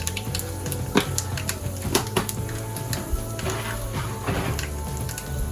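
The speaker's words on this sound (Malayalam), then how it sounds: "കടുക് പൊട്ടി തുടങ്ങിയിട്ടുണ്ട്." Mustard seeds splutter in hot oil with sharp, irregular pops and crackles over a low background hum, close and moderately loud.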